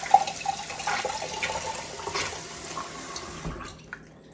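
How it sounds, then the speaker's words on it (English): Running tap water rinses a syringe used for tube-feeding, a steady close splash and trickle of water into a sink that tapers off near the end. "I rinse it under the tap first."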